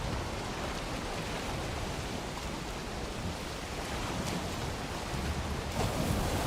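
Open-ocean waves in Valheim wash in a steady, broad rush of surf, loud and continuous with slight swells toward the end, no voices over it.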